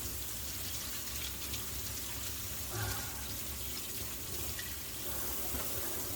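A kitchen knife being washed under a running tap, a steady rush of water that continues unbroken for the whole stretch with no talking.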